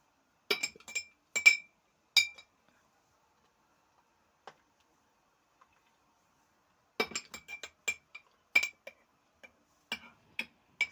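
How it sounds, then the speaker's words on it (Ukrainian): Eggplants packed into sterile glass jars make small, sharp glassy clinks and taps, in scattered clusters with quiet gaps between them, close and fairly faint. "І викладаємо у банки баклажанчики."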